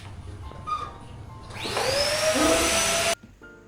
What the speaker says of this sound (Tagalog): nakailang pasado po ako dyan ng vacuum kasi medyo yung alikabok kalat-kalat